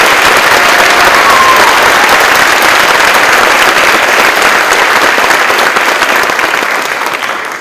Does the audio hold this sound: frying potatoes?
no